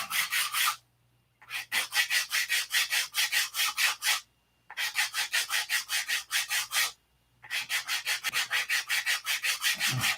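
Sandpaper works a wooden wing in quick back-and-forth strokes, a close, rhythmic scratchy rasp in three runs separated by short pauses, with no talking.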